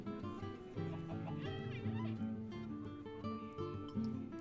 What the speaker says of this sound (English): Boy, there are a lot of chickens over here